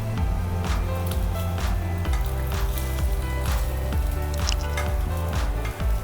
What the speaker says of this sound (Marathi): असे शॅलो फ्राय करून घ्यायचे आहेत आपल्याला।